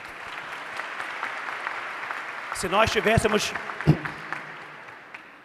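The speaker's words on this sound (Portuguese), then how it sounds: "peço mais uma vez uma salva de palmas para a Juliana" Applause from an audience at a solemn ceremonial session, a steady wash of many hands clapping that continues under someone speaking through a microphone.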